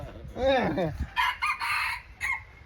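A rooster on a fighting-cock farm crows once loud and close, followed by several shorter clucking calls from nearby fowl.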